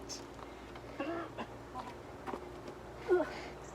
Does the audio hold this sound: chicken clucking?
yes